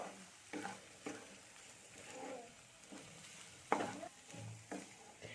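Ground chili, cumin and coriander spices are stir-fried in a pan for a snack recipe, with faint sizzling under repeated scraping stirs of a utensil.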